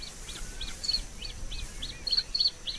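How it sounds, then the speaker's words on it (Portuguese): A male bluethroat sings from spring reed beds, a run of repeated sharp chirping phrases in a steady rhythm, some notes buzzy or ringing, fairly close and clear over a soft background hiss, with no voices. "O canto do macho estabelece o território do casal."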